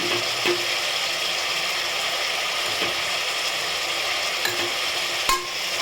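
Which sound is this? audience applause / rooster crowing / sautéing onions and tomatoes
sautéing onions and tomatoes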